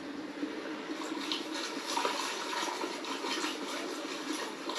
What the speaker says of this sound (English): And you can shake it back and forth. And you're slowly going to let that material flow out.